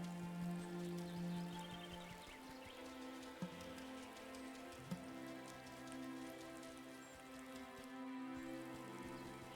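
In the farming life-sim game Wylde Flowers, a steady, soft patter of rain falls on surfaces, with drops spread evenly throughout. Quiet tonal game music sustains underneath, and no one speaks.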